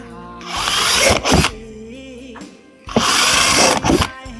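A power drill bores holes for a rough, functional repair of something meant to be leaned on, in two loud, close whirring bursts of about one and a half seconds each, separated by a short pause.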